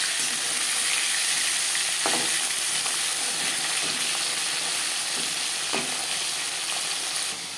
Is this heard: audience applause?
no